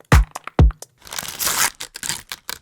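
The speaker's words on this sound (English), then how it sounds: "Crunchy bag noises and tearing paper." Crunchy plastic bag crinkles and tearing paper used as percussion samples: two sharp crunching hits, then a longer rustling tear with scattered crackles, loud and close with no talk.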